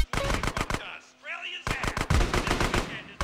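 Gunfire in the video game Grand Theft Auto: San Andreas, sharp rapid shots in two loud bursts around a short quieter gap with a brief tone and whooshing effects.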